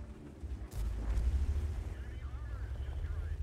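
A tank's main gun fires in World of Tanks, a deep low boom that jolts in under a second and then trails off into a rumbling battle din, while a voice talks over it.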